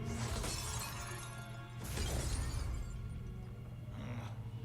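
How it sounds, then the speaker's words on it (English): Glass shatters in the Mortal Kombat fighting game, a loud crash near the start and a second heavy burst about two seconds in, with a dense music and effects bed running under them and no talk. "We just glassed Shawty"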